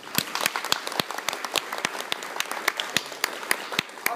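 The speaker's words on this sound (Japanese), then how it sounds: "最後にもう一度盛大な拍手を送りたいと思います" Scattered applause from a small audience at a lecture event, honoring the five speakers: distinct individual claps ring out in an uneven, sparse patter for about four seconds, moderately close.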